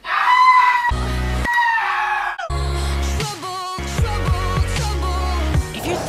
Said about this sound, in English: Goats and rabbits are swifting too.